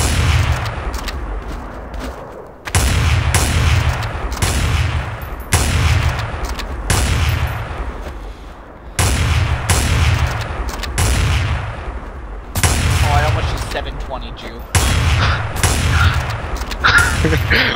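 Repeated loud gunfire in a first-person shooter game, including Magnum shots, comes in heavy bursts and volleys separated by short lulls, close and punchy throughout.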